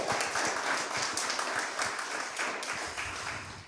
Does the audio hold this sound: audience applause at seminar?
yes